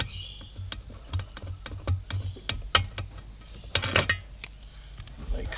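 A metal hose clamp is refitted onto a coolant hose on a Toyota Land Cruiser, giving a quick run of sharp, close clicks and ticks with small scraping handling noises between them.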